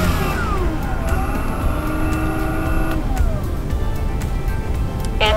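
Small single-cylinder 15cc gas engine of a Hangar 9 Carbon Cub radio-controlled plane, running close by after landing, a steady buzzing drone whose pitch shifts up and down as the throttle changes.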